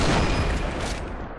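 Sniper rifle fire in the shooting game PB: one loud, dense burst of gunfire that fades as it rings out, with no speech.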